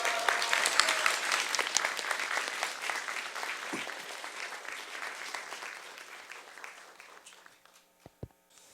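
A lecture audience applauds to welcome a speaker on stage, a steady wash of clapping that holds for several seconds, then thins and fades out, ending with a couple of isolated knocks.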